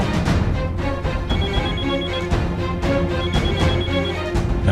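A telephone rings loudly in repeated bursts, a bright electronic ringtone pattern continuing throughout with no voices.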